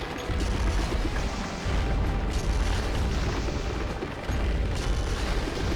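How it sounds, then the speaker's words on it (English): Exploding ammunition shots in Monster Hunter Freedom Unite: a continuous, heavy roar of booming blasts that fills the clip, loud and dense with brief dips between volleys. "Well, that does prove there is an explosion."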